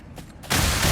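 Weapon fire from a new gun in the video game Ratchet and Clank: Rift Apart, a sudden loud burst that cuts in halfway and sustains as a dense, continuous barrage after a quieter opening.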